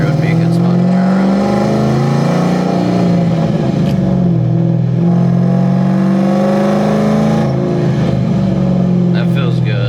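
A tuned Ford Mustang GT V8 pulls under light throttle, its engine note rising and surging steadily from inside the car, a continuous loud drone that swells and eases over the stretch, with a voice talking over it at times.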